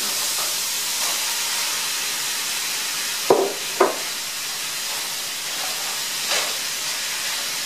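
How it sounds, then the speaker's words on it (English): Sausage meat browning in a pan for a sausage and bell pepper paella gives a steady, loud hiss and sizzle throughout, with a few sharp utensil knocks near the middle. "So I'm going to finish browning the meat"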